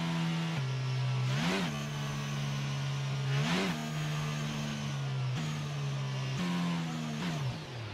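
A Formula One car's engine in the F1 22 racing game holds a steady high rev before a race start, dipping and surging briefly a few times, continuous and loud.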